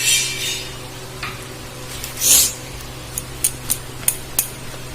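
Pomfret fish pieces being hand-mixed with salt and turmeric in a bowl, giving soft wet squelching and stirring sounds with a few faint light clinks of a dish, close and quiet with no talk.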